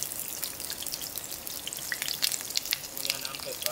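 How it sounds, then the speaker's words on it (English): Onion and pepper fry in a pot outdoors in a Jamaican jungle, a light, uneven sizzle with scattered pops and crackles that grow busier toward the end. "drop in the onion and them"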